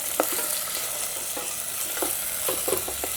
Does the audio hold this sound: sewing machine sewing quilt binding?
no